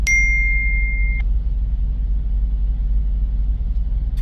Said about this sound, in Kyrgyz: Анан отурсам СМС келет.